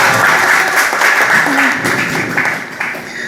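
An audience at an open exam on Quranic interpretation breaks into steady, dense applause, loud and continuous for several seconds before tapering slightly.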